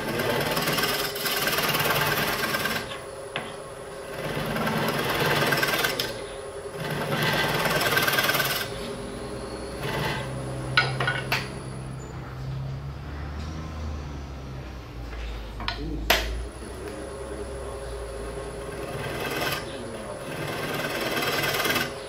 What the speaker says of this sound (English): I'm going to take a scraper and just scrape.